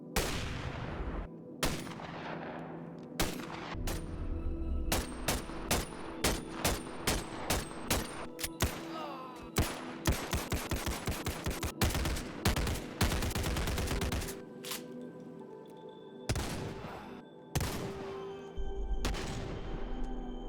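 Rapid, loud gunfire from modded AWP sniper rifles and shotguns in the VR game Bonelab, with dense bursts of sharp shots and brief pauses between volleys.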